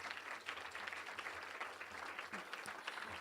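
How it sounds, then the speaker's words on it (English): Audience applause at a Salute to Women event honoring women, a steady wash of many hands clapping throughout, dense and even without pause. "So let's give ourselves a round of applause"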